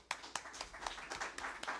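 Scattered hand clapping from a small audience at a church thanksgiving service, faint and uneven, with distinct individual claps in a loose rhythm.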